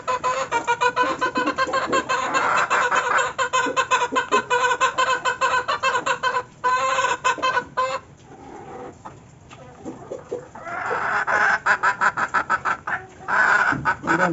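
Barred Rock and Rhode Island Red chickens cluck busily while feeding, a dense, loud chorus of overlapping clucks and calls that briefly thins out before swelling again.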